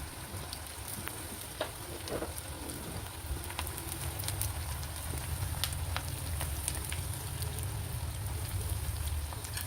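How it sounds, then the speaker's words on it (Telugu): Two large cut onions frying in oil for a chicken masala dish, giving a steady, even sizzle and crackle that holds for the whole stretch with scattered pops and no talking. "2 పెద్ద సైజు ఉల్లిగడ్డలను కట్ చేసుకొని నూనెలో వేయించుకోవాలండి"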